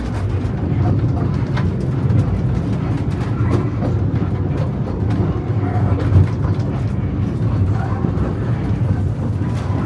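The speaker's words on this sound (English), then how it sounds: "the light railway down here on the front as well" A seaside light railway train rumbles steadily close by on Hayling Island, a continuous low rolling drone with faint rattling, running throughout without talk.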